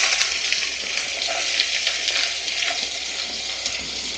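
Chopped onion sizzles in hot oil in a pan while making a cauliflower dish, a steady close crackling hiss with occasional small pops throughout.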